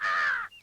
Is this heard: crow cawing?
yes